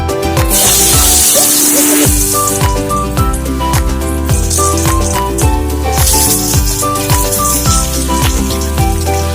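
Oil sizzling in a wok for frying singhi fish, a loud, steady crackle and spatter that runs the whole time alongside a busy music background, with no talking.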